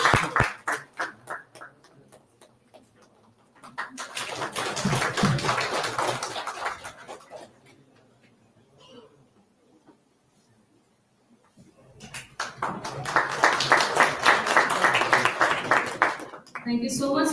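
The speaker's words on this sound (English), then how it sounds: "A big round of applause for sir." A university summit audience applauds an honoured pro vice chancellor, with two swelling bursts of clapping separated by a quieter stretch, the crowd sound rising and fading at moderate distance.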